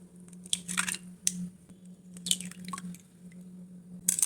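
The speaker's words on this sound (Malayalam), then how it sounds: "ഇതിൽ മുട്ടയൊന്ന് പൊട്ടിച്ചു ഒഴിക്കട്ടെ." A hen's egg is cracked and poured into a bowl for a spinach omelette, giving a few short wet cracks and splashes against a steady low hum.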